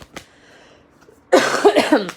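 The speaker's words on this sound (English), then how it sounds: "Excuse me about the coughing." A faint cough early on, then a loud burst of harsh, close coughing near the end.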